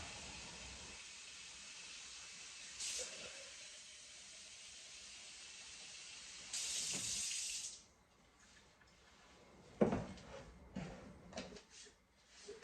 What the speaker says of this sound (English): we just add water, however much you want